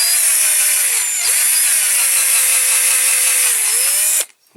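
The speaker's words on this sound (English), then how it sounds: "you can see all the stuff in the end of the drill bit there" A power drill grinds out a rivet on a die-cast Dinky Toys MG Midget No. 108, a loud, steady high-pitched whine with brief pitch dips as the bit loads up, then cutting off abruptly near the end.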